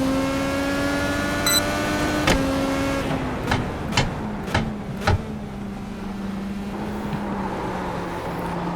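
An Indycar engine in the iRacing sim hums steadily on a slow out lap at Mid-Ohio, its pitch sliding gently, followed by several sharp gearshift clicks as it settles into a lower drone.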